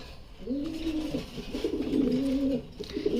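Siraji pigeon cooing up close, a steady run of low rolling coos that swell and dip across the clip, alone with no talk.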